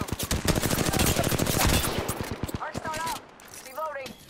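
Rapid gunfire bursts in Apex Legends, loud close-range automatic shots hammering for about two seconds, then fading into brief game voice callouts with electronic chirps.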